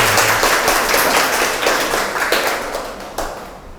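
A lecture audience gives a burst of applause, with many hands clapping together loud and close before it slowly thins out over a few seconds.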